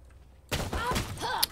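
Gunfire in a video game: a quiet stretch, then a sudden loud burst of shots and impacts that fills the rest of the moment, with one sharp crack near the end.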